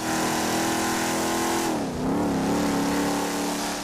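A car engine in GTA V revs steadily at high pitch, dips briefly as if shifting gear, then climbs again, loud and continuous with no talking.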